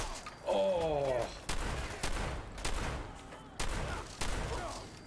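In the video game Fallout 4, a burst of gunfire rings out as several loud, rapid reports, each trailing into a short echo, mixed with game sounds and a brief tonal effect near the start.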